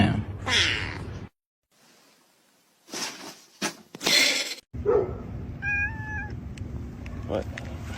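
A kitten meows several times, with short cries near the start and clearer, drawn-out mews later. A person speaks between the calls and the kitten sounds close.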